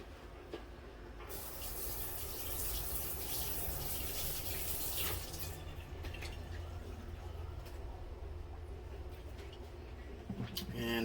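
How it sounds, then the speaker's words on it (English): Running tap water splashes steadily while hands are washed after rubbing seasoning into pork ribs, a continuous close rush that swells in the middle and tapers near the end, with faint background voices. "Go ahead and wash off my hands."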